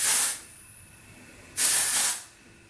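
Two bursts of dry shampoo aerosol sprayed onto hair roots, each a loud close hiss lasting about half a second to a second, separated by a quiet pause.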